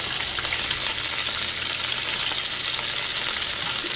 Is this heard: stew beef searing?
yes